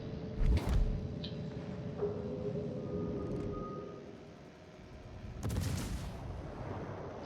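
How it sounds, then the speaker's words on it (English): World of Warships-style naval gunfire from the cruiser Cleveland firing HE shells: two heavy booming salvos, one near the start and one near the end, over a steady engine and ocean rumble. "Rocket goes back to work with the HE shells."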